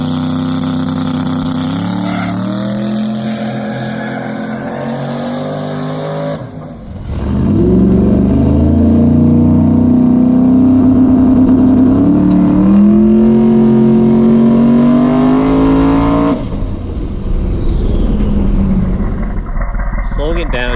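A drag car on bare asphalt launches with a loud roaring engine that climbs in pitch, drops briefly at a shift, then pulls hard again before fading, heard close and dominating the whole stretch.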